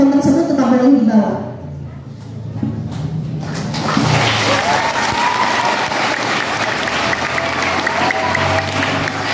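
A voice speaks first, then audience applause breaks out at a school student council debate at SMP Negeri 1 Seberida. It sounds as a broad, steady rush of many hands that continues loudly to the end.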